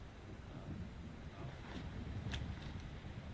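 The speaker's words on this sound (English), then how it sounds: "Getting rough out there. The waves are picking up." Rough sea waves slapping against a ship in Monster Hunter World, a steady low rushing wash of water and wind with a faint creak, heard alone at a fairly quiet level.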